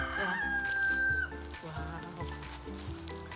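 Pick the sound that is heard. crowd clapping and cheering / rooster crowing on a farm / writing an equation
rooster crowing on a farm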